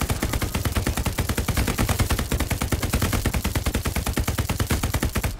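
A machine gun fires in the World War II shooter Hell Let Loose, delivering a loud, close, sustained burst of rapid evenly spaced shots that runs the whole length without pause.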